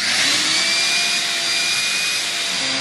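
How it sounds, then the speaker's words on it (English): A loud vacuum roars steadily, sucking dirt out of a fence post hole during home repairs, its high-pitched whine and airy hiss holding constant and close with no pauses. "He's vacuuming out with his vacuum the dirt out of there."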